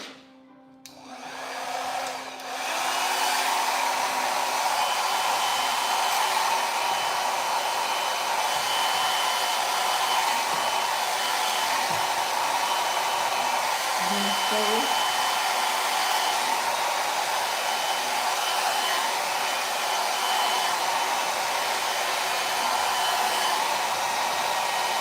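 A hair dryer blows on blonde hair in a salon, switching on after a brief click and then roaring in a steady, loud, unbroken whoosh for more than twenty seconds, close and without speech.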